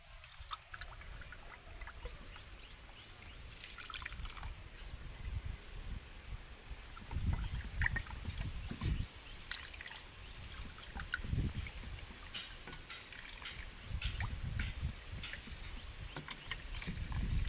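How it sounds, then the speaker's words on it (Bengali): Water pouring onto raw mango pieces in a pot while making jelly or jam, a steady trickling and splashing with low sloshing surges, close and moderately loud throughout with no talking. "চার কাপ জল দিয়ে দিলাম"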